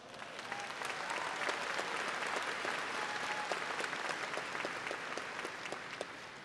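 An audience at the Western Hills High School 2019 graduation ceremony claps steadily, a dense, even wash of applause from a large crowd that holds at one level throughout.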